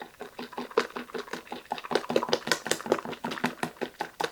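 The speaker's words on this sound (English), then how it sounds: "I'm just going to whisk it by hand" Chocolate cake batter being beaten by hand with a whisk in a bowl: rapid, steady, rhythmic scraping strokes, close and fairly loud, with no voices.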